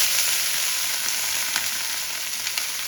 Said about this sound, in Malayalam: വെണ്ടക്കായ ഒന്ന് വഴറ്റണം